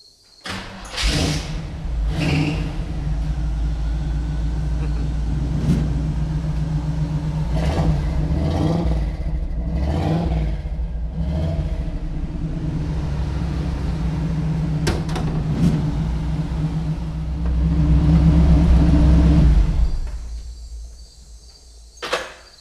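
A Chevy truck engine cranks and fires, then runs at a rumbling idle with several throttle blips and a long loud rev near the end before settling and shutting down, close by and without talk.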